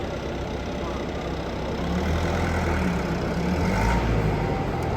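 Tractor engine idling at a tractor penalty competition, a low steady rumble that swells slightly midway, heard continuously at moderate distance with no talk.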